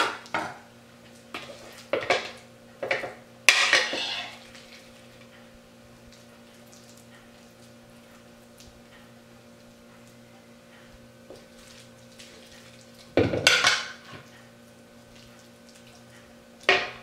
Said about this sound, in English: Stuff it in with my spoon.